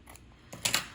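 Scissors trim paper off a travel art journal page. There are a few quick close snips, and the last half second is louder than the start.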